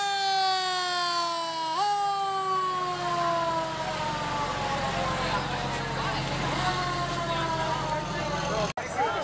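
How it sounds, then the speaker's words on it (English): A wailing siren from an old-style fire truck sweeps up and down in long harmonic tones, loud and close, with crowd chatter and street noise underneath, at a Fourth of July event. "Old style fire truck, that's kind of cool."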